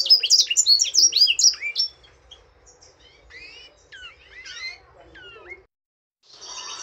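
A male African singer finch and a female canary sing close by in a cage, with rapid bright chirping trills at first, then sparser whistled notes and short tweets, ending with a brief burst of rustling.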